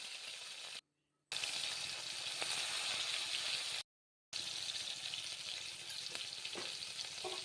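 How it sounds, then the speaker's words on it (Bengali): Chopped prawns frying in mustard oil with turmeric and salt in a wok, a steady close sizzle broken by two short silences, with occasional stirring scrapes. "প্রথমেই কড়াইতে দিয়ে দেব সর্ষের তেল, দিয়ে কুচো করা সে চিংড়ি মাছগুলো ভেজে নেব একটু হলুদ আর নুন দিয়ে"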